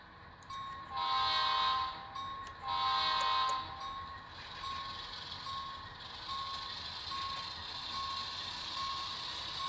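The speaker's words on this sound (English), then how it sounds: "And we'll reverse back and get our caboose." A model train backs up to couple onto its caboose on an industrial switching layout, with a steady electronic beeping tone repeating throughout over a low running hum, louder in two bursts near the start.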